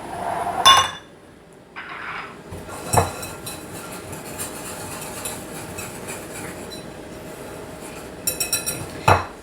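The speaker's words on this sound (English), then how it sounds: "combine your flour and baking powder and just whisk that together" Flour and baking powder are whisked together in a bowl for cupcakes. Sparse light clinks and taps of the whisk against the bowl sit over a soft steady background hiss, close by and with no talk.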